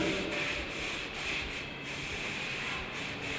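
A brush spreads a coating of natural wine lees across a wooden wine barrel, making a steady, soft scraping and rubbing sound with faint rhythmic strokes, close and quiet throughout.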